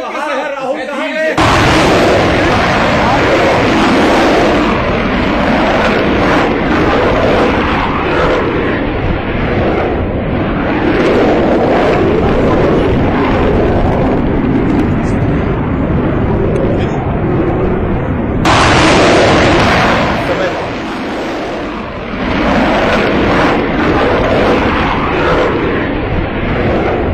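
A Rafale fighter jet roars in flight during a handover event, with a loud, sustained broadband roar that cuts out briefly and then returns. Commentary runs over it.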